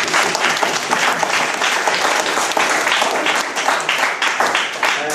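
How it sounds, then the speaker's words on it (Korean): Loud, sustained applause from an audience honouring two mathematics teachers at a school gathering, with dense clapping that continues steadily throughout. "두 분을 위해서 박수를 한번 주시기 바랍니다"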